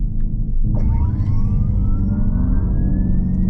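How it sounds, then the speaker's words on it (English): A 2025 Dodge Charger Daytona electric car sounds its power shot ready alert: a low electric hum with a rising synthetic whine that sweeps upward and holds, steady and fairly loud, with no talking. "If you click the power shot button without accelerating, it gives you a really cool sound letting you know it's ready."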